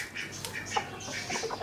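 An Aseel hen makes short clucks and squawks in a rainy outdoor pet enclosure, with several brief calls scattered over light background noise.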